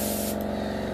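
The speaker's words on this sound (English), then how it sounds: "My spray gun's giving me a bit of a problem." Airbrush spray gun spraying paint while detailing a USAAF B-29A model, a steady close hiss of compressed air and atomised paint, with a brief pause partway through.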